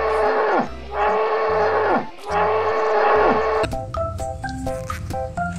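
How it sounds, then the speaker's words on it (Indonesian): Deep, drawn-out lowing calls from a buffalo in a video game, three in a row, loud and close, ending with a short electronic jingle. "Ada kerbau."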